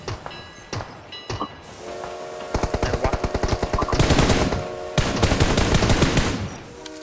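Rapid bursts of automatic gunfire in the PUBG Mobile shooter game, loud close strings of shots in two extended volleys after a few scattered earlier pops, with no voice over them.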